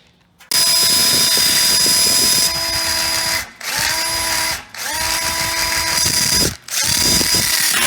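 A power drill whirs loudly in several long bursts while driving into an outdoor kitchen module, stopping briefly between each run and spinning up again, close at hand.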